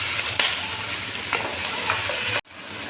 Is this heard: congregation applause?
no